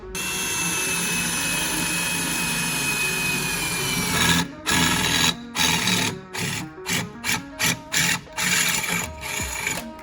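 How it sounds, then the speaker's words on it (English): A Wurth ratcheting riv nut tool sets rivet nuts: a steady mechanical whirr for about four seconds, then a run of short, evenly spaced clicking bursts up close, with no talking. "So this kit with the ratcheting riv nut tool, it'll do from M3 up to M12"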